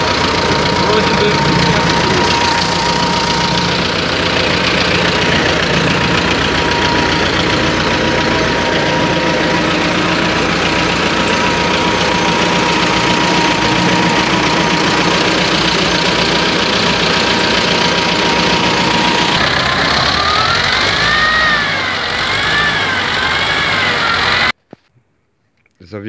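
A T-40 tractor engine idles steadily after an engine repair, with a loud, continuous knocking mechanical rumble that runs throughout and cuts off abruptly near the end. Someone talks over it.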